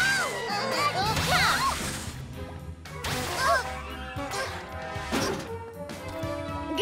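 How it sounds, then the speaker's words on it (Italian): Cartoon super wind gust whoosh from a PJ Masks episode, a series of swishing, whipping bursts with crashing hits and bright swirling effects over background music. "Li spazzerò via di nuovo col mio vento da super gufetta!"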